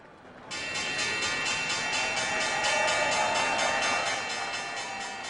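A closing bell rings continuously on a radio broadcast with a bright, rapid metallic clatter that starts abruptly and holds steady for several seconds, loud and unbroken.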